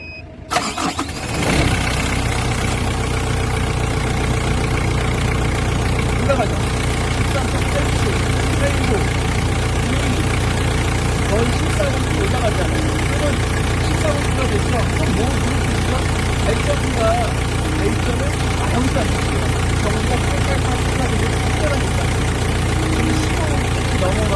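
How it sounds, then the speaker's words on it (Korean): A forklift engine cranks and catches at the start, then settles into a steady, loud, continuous idle that runs on for the rest of the stretch. "이 상태에서 시동을 키잖아요"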